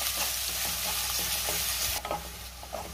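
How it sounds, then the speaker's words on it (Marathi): Onion and curry leaves are stir-fried in a pan, giving a loud, even sizzle with repeated spatula scrapes; the hiss drops slightly partway through as stirring continues. "आता आपण कांदा घालूया, त्यातच कढीपत्ता घालायचा आहे आणि कांदा आपण 2 मिनिटं चांगला परतून घेऊया।"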